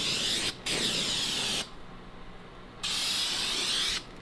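An aerosol spray can coats the wheel well of a 1974 car in three long hissing bursts, close and loud, separated by short quiet gaps.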